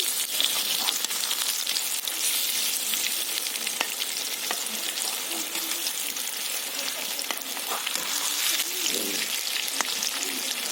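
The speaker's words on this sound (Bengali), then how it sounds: "এর এক পিঠটা ভাজা হয়ে গেছে অপর পিঠটা উল্টে দেবো" Drumstick flower and shrimp pakora deep-frying in oil, a steady loud bubbling sizzle running throughout with a few soft clicks of turning the fritters.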